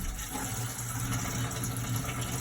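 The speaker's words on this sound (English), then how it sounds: "You hear the water spraying above you, don't you?" Water running from a tap during a leak repair, hot water flowing and spraying through the plumbing lines overhead, a steady continuous rushing hiss with low rumble throughout.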